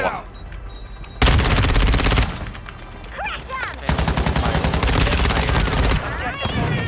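Bursts of automatic gunfire in Warzone 2.0, loud, dense rapid volleys that start and stop in several long strings, with other weapon sounds and voices talking over the action.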